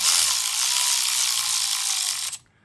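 Fast continuous buzzing ratchet of a gear set wrench running bolts down, loud and close, holding steady for about two seconds before stopping abruptly.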